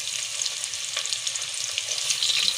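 Onions sizzling and frying in hot oil in a cooking pot, a steady close crackling hiss with occasional stirring clatter, no voices.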